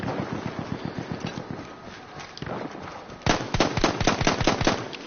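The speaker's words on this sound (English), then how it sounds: "gun sounds are a little desirable too. They sound a bit weak." Gunfire in the Battlefield 1 beta comes as rapid, rhythmic cracks, first a steady moderate burst, then after a short pause a louder, denser volley of sharp shots.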